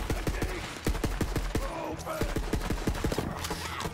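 Rapid bursts of gunfire from a newly found gun in the video game Borderlands 3, sharp repeated shots in quick succession across the whole stretch, loud and close over a busy game background.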